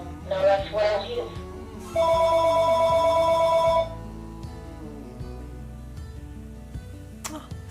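A telephone rings with a loud, steady electronic tone for about two seconds, followed by a quieter synthesized voice announcing the incoming caller, with faint background sounds around it.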